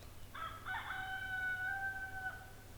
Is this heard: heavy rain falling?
no